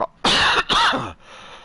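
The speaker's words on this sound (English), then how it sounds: "Guys, sorry for the coughing." Two harsh, explosive coughs in quick succession, close and loud, followed by quiet.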